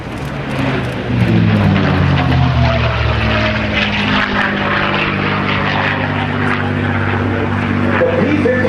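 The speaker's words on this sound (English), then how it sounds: "the P-51 Mustang, as you see it diving in from the right now, let's just listen to this. Listen to this engine." A P-51 Mustang's propeller engine drones loudly as the fighter dives past at an air show open house, swelling after the first second and holding a strong, throbbing roar, with a public-address voice faintly beneath.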